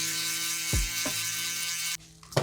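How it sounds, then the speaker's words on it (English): An electric shaver buzzes steadily at close range during a buzz-cut fade haircut on straight hair, its tone shifting and dipping with a few short bumps as it moves over the head, then cutting off and restarting briefly. "Electric shaver that thing."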